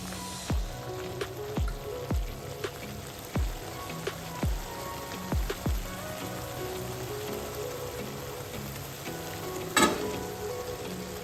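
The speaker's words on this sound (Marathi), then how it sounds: "आता आपण चणे घालून घेणार आहोत।" Chickpeas frying and sizzling in a hot pan of masala for chole, with a steady hiss and several sharp clanks of a spoon stirring, plus one louder scrape near the end; no talking.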